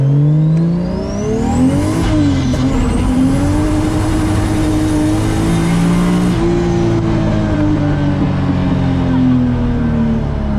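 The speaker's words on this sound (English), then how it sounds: "Oh yeah, you gotta have loud cars." A loud car engine revs and roars continuously up close, pitch rising and falling with throttle blips, steady and overwhelming throughout.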